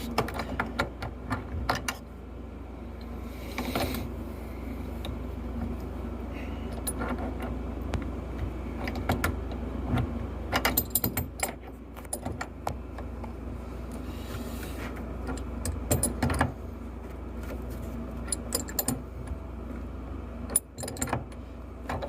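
A threaded tap fitting is worked onto a beer long-draw line with a run of small metallic clicks, scrapes and jangles, close and fairly quiet, spread in uneven bursts over steady background hum.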